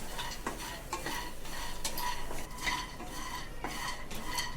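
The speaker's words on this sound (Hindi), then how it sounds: "ये मखाने फ्राई हो रहा है।" Makhana fox nuts frying in ghee over a slow flame, a steady close sizzle with repeated scraping and stirring clinks of a utensil against the pan, no voices.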